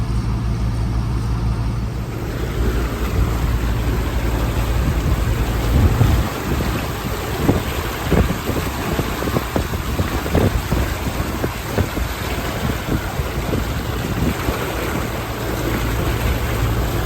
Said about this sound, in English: That might be a bit of rain.